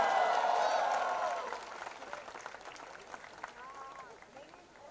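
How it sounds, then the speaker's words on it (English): A college audience at NMIMS cheers and applauds for director Shelly Chopra Dhar at a film promotion, a loud burst of crowd noise that dies down after about a second and a half, leaving scattered claps and voices. "huge round of applause"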